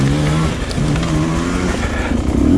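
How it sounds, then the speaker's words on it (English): A Beta dirt bike engine, a two-stroke TPI model, drones loud and close while being ridden, its steady harmonic buzz rising and falling slightly with throttle over a couple of seconds. "This is a really fun motorcycle to ride."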